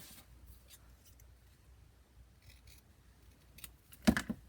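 Paper is folded and snipped with scissors while assembling a Jonquil Cottage paper craft kit; faint handling and rustling give way to a sharp burst of close cuts near the end.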